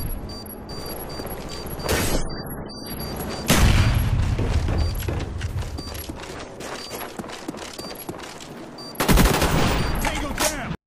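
Rapid gunfire rattles through a Black Ops multiplayer bomb match, with automatic bursts and single shots repeating in quick clusters over steady game ambience, while a voice comments faintly underneath.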